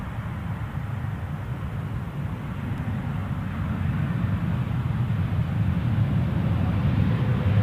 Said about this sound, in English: I think you can never have too much airplane noise